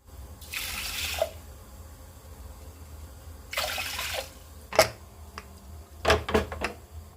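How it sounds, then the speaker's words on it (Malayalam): Broken wheat and green gram are washed in water for a healthy kheer: two short bursts of running, splashing water, then a few light clinks and drips near the end, quiet and close. "1/2 ഗ്ലാസ് നുറുക്ക് ഗോതമ്പും 1/4 ഗ്ലാസ് ചെറുപയറും നന്നായിട്ട് കഴുകി കുക്കറിലേക്കിട്ട്"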